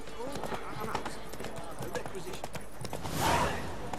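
Hoofbeats of the horse Roach in The Witcher 3 clop in a steady rhythm throughout, close and moderately loud, with a brief swell of noise near the end and speech running alongside.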